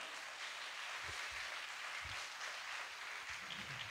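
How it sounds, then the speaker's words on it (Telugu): A congregation claps together at a Catholic shrine service honouring Mother Mary. The clapping is faint and steady, a thin wash of many hands that runs through the whole moment with no talking. "గట్టిగా ఒకసారి ఆ యువతి గొలుగురు చప్పట్లు కొడదామా?"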